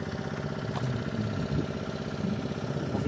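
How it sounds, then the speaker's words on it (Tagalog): A fishing boat's engine runs in a steady, rhythmic, medium-pitched drone with a chugging pulse, close by and continuous with no voices. "Paandar ng makina."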